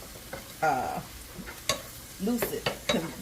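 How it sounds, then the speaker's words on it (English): Vegetables and garlic powder sauté in avocado oil, making a low, steady sizzle broken by several sharp utensil scrapes and knocks against the pan, close and fairly loud. "Oh, and that's avocado oil that I have there that I'm sauteing"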